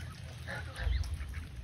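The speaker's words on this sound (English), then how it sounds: "That's a mess of ducks." Ducks quacking and honking in a busy group in a chicken coop pen, overlapping calls over a low rumbling background, moderately close.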